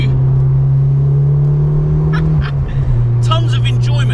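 A Ford Fiesta with a swapped-in Puma turbo engine accelerates with a loud, steady engine drone that dips briefly as a gear changes, then picks back up, with a voice talking over it.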